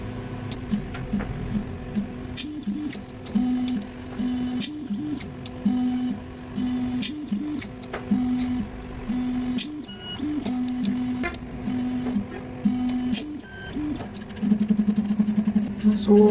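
A paste extrusion printer lays down a NaCl salt slurry of about 60% solids through a 1.2 mm nozzle at 4 bar. Its stepper motors give a close, rhythmic whirring and buzzing pattern with repeated short starts and stops and faint ticks.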